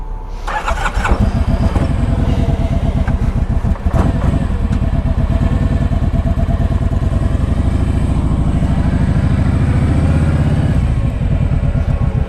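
A 2010 Kawasaki Vulcan Voyager ABS motorcycle fires up nearby with a sharp starter crank, then settles into a steady, loud, throbbing idle that runs on unbroken.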